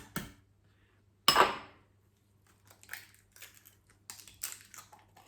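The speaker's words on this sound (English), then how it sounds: "after cracking the eggs" Eggs cracked for tuna patties: two sharp, close cracks, the second louder, followed by faint scattered clicks of shell and bowl.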